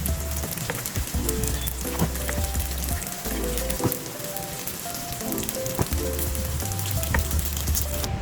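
Tofu frying in hot oil, a dense continuous sizzle and crackle with scattered pops and clinks, steady and close throughout.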